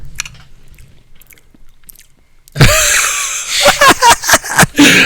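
A person imitates loud chewing while eating, beginning after a quiet stretch as a dense burst of wet, smacking mouth noises, then repeated rhythmic chomps close to the microphone.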